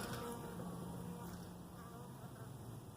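A swarm of honey bees being caught, a steady dense buzzing drone that stays even and close throughout, no talk.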